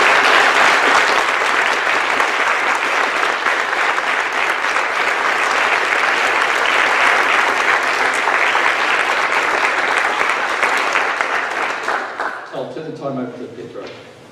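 A conference audience in a recital hall breaks into sustained, loud applause for a keynote speaker, clapping steadily for about twelve seconds before it fades out and a voice starts speaking.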